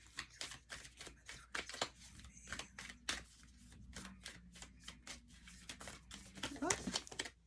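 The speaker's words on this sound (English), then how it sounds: "I was shuffling these cards the whole time" Tarot cards being shuffled by hand: a string of quick, crisp riffling and flicking bursts in an uneven rhythm, close and moderately loud, with a brief faint voice near the end.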